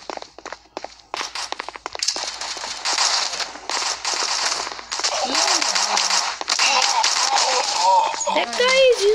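Shotgun fire in the mobile shooter Guns of Boom, with sharp bursts among dense in-game battle noise while players talk over it throughout.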